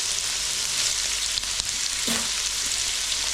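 Peppers and onion fry in a pan with a constant bright, hissing sizzle, close and even, with a couple of faint clicks of utensils.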